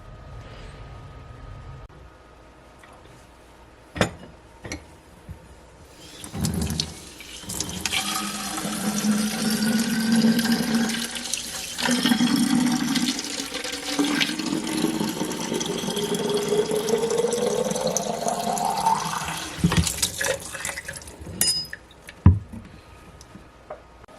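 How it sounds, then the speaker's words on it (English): Water poured into a container of salt for a homemade hydrogen generator, a steady pouring and filling sound that rises in pitch as the vessel fills, with a few knocks before and after and no talk. "And next we need to add some water."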